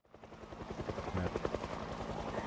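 Helicopter in a video game, a steady rhythmic rotor thump swelling in and holding at moderate distance, continuous and alone.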